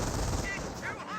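Rapid gunfire from a Company of Heroes match, US troops against Wehrmacht infantry, comes as a dense, loud burst of shots over battlefield noise. Brief tonal game sounds pass over the top.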